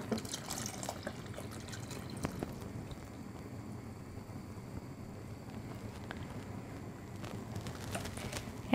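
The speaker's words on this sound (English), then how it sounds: "now I'm going to add my milk" Milk poured into a pot of ham and potato soup, a steady soft liquid pouring and trickling sound running throughout at moderate level with no talk over it.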